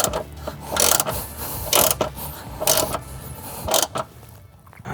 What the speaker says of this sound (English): Then we'll use a 7/16 ratchet to tighten the bolt.